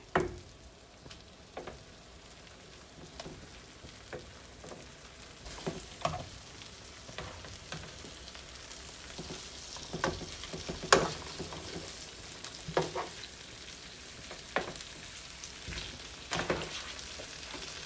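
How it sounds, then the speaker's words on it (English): Pork chops frying in melted garlic butter with onions, a quiet continuous sizzle punctuated by irregular sharper pops and utensil clinks, with no talking. "Once the butter is completely melted, I'm going to add my chops back in."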